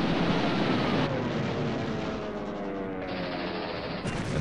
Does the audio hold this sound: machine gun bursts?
yes